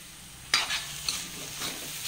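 Cheera (amaranth) stir-fry in a pan: a soft steady sizzle, then a sudden clatter as the lid comes off, followed by a few scraping stirs through the greens.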